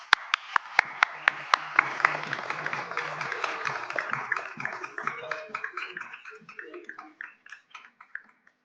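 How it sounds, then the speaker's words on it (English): An audience applauds at a national awards ceremony as certificate recipients come to the stage, starting with sharp distinct claps that swell into steady clapping from a moderately sized crowd, then taper off. "Another round of applause."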